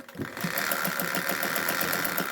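A sewing machine stitches over seams in a steady, fast mechanical rhythm, running close and loud after a brief start-up with no pauses.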